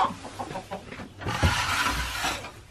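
A rooster in a barn clucks in a few short, close bursts, with louder, rougher calls in the second half and no speech.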